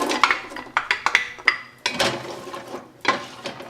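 Onion tossed into a pan of sautéing garlic for a carrot ginger soup: clattery pan and utensil knocks in an irregular rhythm, close and moderately loud, with a brief sizzle-like hiss between the impacts.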